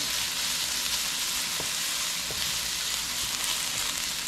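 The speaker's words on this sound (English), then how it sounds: "Now this is stir fry, you don't want to overcook this, right?" Fish and bora long beans stir-fry with garlic in a non-stick pan, a dense steady sizzle with a couple of soft wooden spoon taps, close and continuous, no voices.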